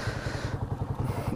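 A Bajaj Rouser motorcycle engine runs at night, a close, steady low thumping idle with rapid regular pulses and some mechanical clatter, no voices.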